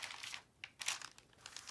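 Tracing paper crinkles and crumples in hand, a run of close, bright rustles with a few sharper crackles, no voices, during paper crafting for a junk journal.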